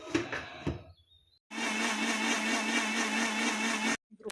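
A kitchen mixer grinder grinds a spice paste of coconut, onion, tomato, chili powder and coriander powder, whirring loudly and steadily for about two and a half seconds after some faint handling noises, then cutting off abruptly.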